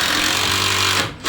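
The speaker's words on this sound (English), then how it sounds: "just drill a bunch of holes" Power drill boring holes in wooden boards for a light display, a loud steady whine with low motor hum running continuously, then cutting off briefly near the end before starting again.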